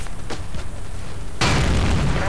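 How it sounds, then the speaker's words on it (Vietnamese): Explosion in the video game Battlefield 2, a sudden loud blast that breaks in partway through and rolls on as dense rumbling noise after quieter scattered pops of gunfire. "Rồi một phát nó nổ banh rồi."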